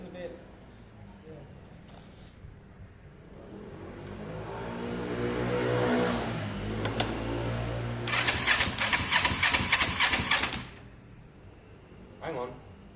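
A Kawasaki ER5 motorcycle engine on choke cranks and catches, rising to a rough, building run with a loud buzzing burst midway before cutting back, while people talk nearby.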